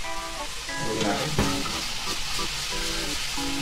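Steady sizzling hiss of tofu cooking in a pan as milk is poured in a little at a time for a cream cilantro sauce, with a brief sharper burst partway through and faint background sounds.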